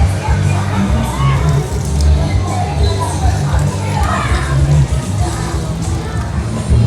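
A busy, crowded roadside food stop in Yong Peng draws a dense, steady hubbub of many voices, with children's shouts and loud music running throughout close by.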